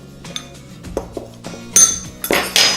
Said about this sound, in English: I'm just going to pop those together and just give them a little bit of a mix to combine that through.